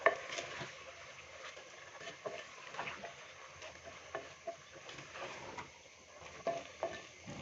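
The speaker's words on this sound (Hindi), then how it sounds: "चीनी डालने के बाद अभी हम इसको दोबारा से अच्छे से मिक्स करेंगे।" A turnip, potato and pea masala with sugar gets stirred in a pan, giving soft, faint sizzling and irregular scraping strokes up close, with no talk.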